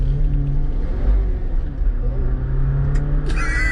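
A 2021 Jeep Wrangler 4xe engine rumbles loudly and steadily up close as it accelerates toward the rev limiter, with a brief higher tonal burst near the end.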